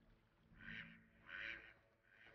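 Ducks quack along a river in Belgium, two or three soft, fairly distant calls rising and fading over low background noise.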